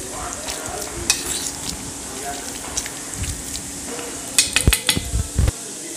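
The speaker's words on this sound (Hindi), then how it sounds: "मेरी कचौरी देखिए अच्छे से सिक गई है, रेड कलर की हो गई है। अब इसको मैं पलट के थोड़ा सा और सेकूंगी" Sattu kachori frying in oil in a pan, a steady close sizzle with occasional scraping and clinks of a utensil against the pan, fairly loud and alone.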